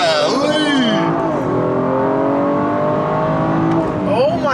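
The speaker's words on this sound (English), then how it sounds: "we're gonna see if launch control actually works after doing XHP." A BMW F30 340i with an XHP transmission tune launches hard and accelerates, its engine revving in loud rising sweeps through several gear changes, with excited voices over the roar.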